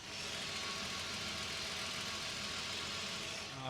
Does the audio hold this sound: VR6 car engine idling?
yes